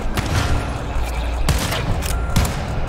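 Gunfire from a co-op shooter game, a fast burst of loud sharp shots on top of a rumbling low background, with several close, punchy reports spaced irregularly across the stretch.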